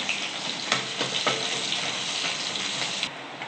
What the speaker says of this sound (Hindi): अब इसमें कटी हुई लहसुन की कलियाँ और 2 से 3 हरी मिर्च कटे हुए, अब इनको भी सौटे कर लेंगे।